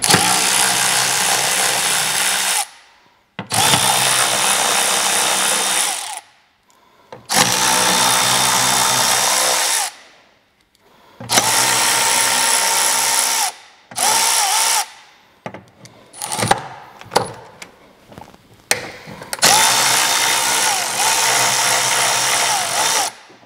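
A power drill works on the surface hatch over a hybrid vehicle's high voltage battery, running in several loud sustained bursts separated by short pauses, then a string of shorter stop-start whirs and clicks near the end.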